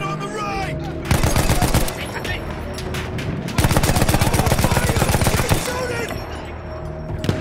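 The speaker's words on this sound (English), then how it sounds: "Keep shooting, keep shooting, keep shooting." Battlefield 1 video game gunfire: rapid machine-gun bursts in two long loud volleys with scattered single shots between, close and dense.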